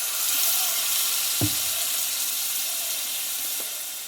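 Spices and a splash of water hit a hot pan while cooking Bengali vegetarian thor curry, giving a steady close sizzle and hiss with a brief sharper burst of frying as the liquid goes in.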